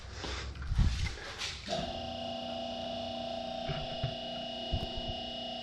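A QuickJack car lift raises a car in a home garage: after a few knocks, a steady electric pump hum with a whine starts and runs on, broken by a couple of soft clunks.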